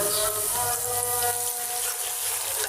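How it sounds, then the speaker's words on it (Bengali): Water is poured into spice paste of turmeric, chili and salt frying in a pan, giving a brief gushing, bubbling splash over a steady sizzle. "একটু পানি দিয়ে দেব"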